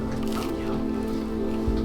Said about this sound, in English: Fill up the rest of my water bottle.